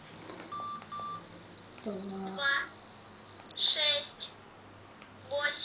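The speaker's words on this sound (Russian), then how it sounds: "вот у тебя телефон, набери число" A child pressing buttons on a telephone keypad, producing a few short, distinct tone beeps spaced apart, with high-pitched voices speaking in between.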